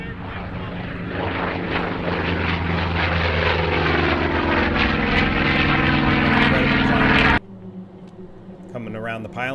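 A Yak-11 propeller airplane takes off at an air race at Bakersfield, its engine giving a loud, steady droning roar that cuts off abruptly near the end.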